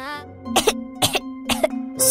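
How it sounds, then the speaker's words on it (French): Three short, evenly spaced coughs, each a sharp burst, over a steady sustained tone in a French-dubbed scene. "De la toux, c'est l'heure d'une farce."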